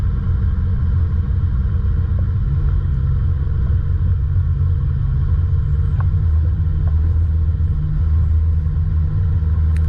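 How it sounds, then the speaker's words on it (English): A car engine labours under heavy load as the vehicle climbs a steep, rocky off-road track, a loud continuous low rumble with little change throughout and no talk. "Your car's working pretty hard to climb these sections."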